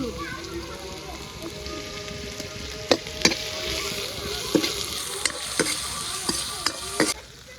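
Potatoes and greens frying in mustard oil with garlic and green chillies in an old blackened iron wok, a steady close sizzle with scattered sharp stirring clinks and scrapes, no talking.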